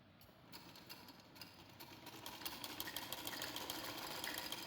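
Sewing machine stitching gathers along the cut side of baby frock fabric, a steady quiet mechanical whirr with rapid ticking that grows slightly louder and faster, with no talking.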